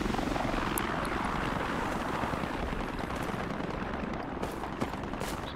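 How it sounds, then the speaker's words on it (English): Enemy helicopter in the military shooter game Project Reality, its rotor chop a steady, loud, broad roar that fills the whole stretch without letup, with no voices over it. "Kaz helicopter."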